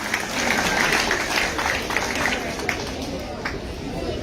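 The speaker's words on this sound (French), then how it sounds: "On l'applaudit encore très fort." An audience at a formal opening ceremony claps in a dense, sustained burst that thins out over a few seconds, with crowd murmur underneath.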